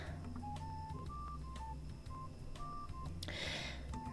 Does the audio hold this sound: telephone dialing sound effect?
yes